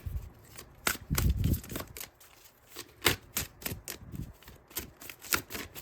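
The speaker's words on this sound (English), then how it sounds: "I'm only going to shuffle this a few times and see if anything wants to come out" A deck of tarot cards is shuffled by hand in a series of quick riffling, slapping bursts at irregular intervals, close and fairly loud, with no speech over it.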